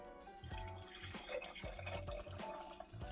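Juice pours into a glass jug, giving splashing, trickling liquid sounds with a few soft clinks. It is close and fairly quiet, with no talk.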